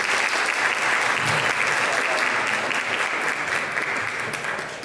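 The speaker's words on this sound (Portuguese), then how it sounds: "Então, eu queria uma calorosa salva de palmas para receber a doutora Gleicione." A lecture audience at an agroindustry talk on legalizing cheese dairies gives a steady, dense round of applause to welcome a speaker, loud and sustained throughout before tapering slightly at the end.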